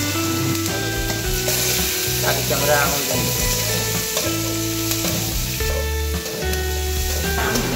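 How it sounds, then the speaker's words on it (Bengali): Cumin seeds and chopped onions sizzle steadily in hot oil in a kadai, with scraping stirs now and then. The frying hiss is close and continuous throughout, with faint background sound beneath it. "প্রথমে কড়াইতে তেল দিয়ে কয়েকটা জিরে দিয়ে তারপর পেঁয়াজ কুচি দিয়ে দিলাম"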